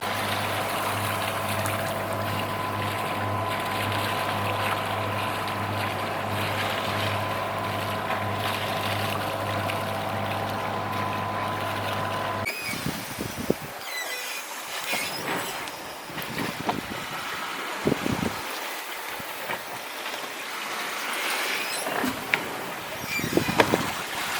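Wind blowing across a Leopard 45 catamaran under sail: a steady roar with low engine-like hum at first, then gusty, rushing noise with flutters and knocks, close and continuous.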